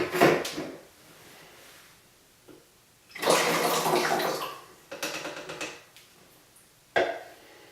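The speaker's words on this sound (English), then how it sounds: "And into the funnel it goes." C-41 chemistry part B pours into a funnel in several gurgling, splashing bursts, close and moderately loud, separated by quieter pauses and a few small clinks.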